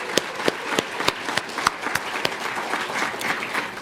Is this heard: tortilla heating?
no